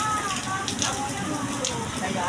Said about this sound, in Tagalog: Oh, may bagyo.